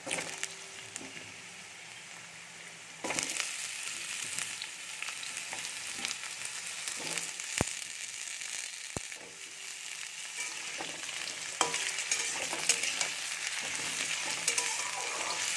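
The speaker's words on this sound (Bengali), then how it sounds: "এবার আলুগুলো পেঁয়াজের ওপরে দিয়েই ভেজে নেব" A steady sizzle of potatoes frying on top of onions in a pan, with occasional stirring scrapes and small pops, continuous and close without any talking.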